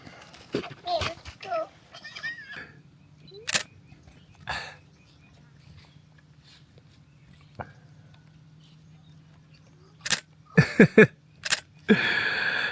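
A camera shutter clicks several times while photographing little girls in a village in Laos, sharp single snaps spaced apart then a quick burst, with children's voices and chatter around them.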